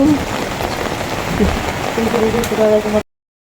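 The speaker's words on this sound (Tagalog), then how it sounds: "lalo pong lumakas ang ulan" Steady heavy rain patters hard on a surface during a typhoon, a dense wash of droplets throughout, with faint voices underneath.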